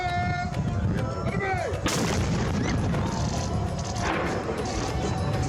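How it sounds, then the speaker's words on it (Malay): A ceremonial cannon fires to mark iftar at Al-Majaz Waterfront in Sharjah, one sharp, loud blast cutting through steady crowd and outdoor noise, with thin whistle-like tones just before it. "meriam dilepaskan sebagai tanda telah masuk waktu iftar"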